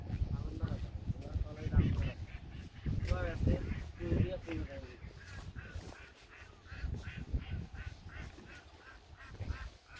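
Ducks quacking near a wetland by a paddy field, a busy flock of repeated quacks and honks at moderate distance, mixed with people talking nearby.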